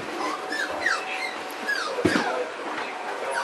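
Puppies whimper in their puppy house, a run of thin, high whines and yips repeating irregularly at close range with a few soft bumps between them. No one speaks.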